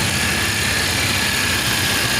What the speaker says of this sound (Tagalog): Mandar kagad yung makina natin, no?